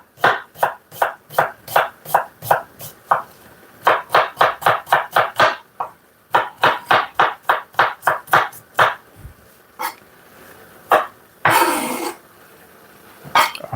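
Red onion being chopped with a knife on a board, a rapid run of sharp, evenly spaced close knocks in quick bursts with short pauses, then a scraping sweep near the end.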